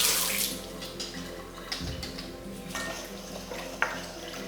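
Tap water runs into a kitchen sink as chopped jalapenos are rinsed, a steady close splashing stream with faint clinks of a dish or bowl.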